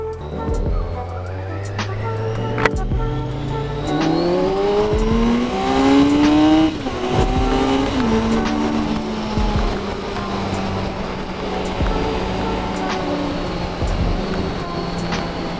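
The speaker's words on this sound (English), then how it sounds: "Watching us start my bike now." A motorcycle engine starts and revs close by, rising and falling in pitch through several throttle blips before settling into a steady loud idle.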